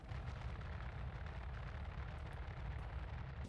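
Torpedo launch and detonation in the space game Star Citizen, fired from a Hammerhead at an M50 interceptor, heard as a steady, loud, low rumbling blast with crackle that fills the whole stretch without a break.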